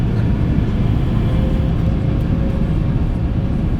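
A Hong Kong Airlines A350 airliner takes off, its jet engines a steady, loud broadband roar that holds without a break.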